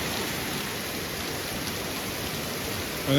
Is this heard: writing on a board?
no